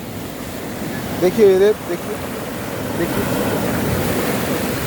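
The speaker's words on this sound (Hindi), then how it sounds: "जितनी बार लहरें आती हैं, कुछ और पत्थर के टुकड़े लेकर आती हैं।" Sea waves wash steadily onto the sand at Colva beach, Goa, with wind rumbling over the microphone and someone speaking briefly over the surf.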